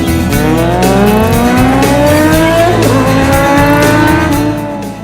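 A motorbike fitted with a modified silencer roars loudly and continuously, rising and falling pitch sweeps suggesting revving and passing, with no talk.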